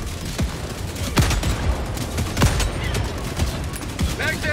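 Sharp gunshots crack in rapid bursts during Helldivers 2 combat, several loud close reports with booms in the background.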